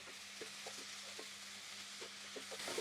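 Vegetables for a smoked herring dish sauté quietly in a pan, a soft, steady sizzle with light scattered pops and a low hum in the background.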